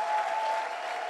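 A church congregation claps together during a bilingual worship service, a dense, steady wash of applause that stays loud and even throughout without any talk.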